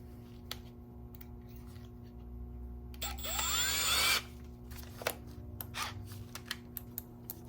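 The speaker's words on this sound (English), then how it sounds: "I just position the drill into the head of the rivet, and I go very slowly so that it centers" A power drill bores slowly through rivet heads on a HMMWV X-door during restoration, one brief whining burst of drilling amid quiet workshop clicks and taps.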